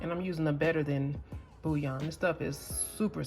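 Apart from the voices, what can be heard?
No distinct noise like a dog, phone or traffic.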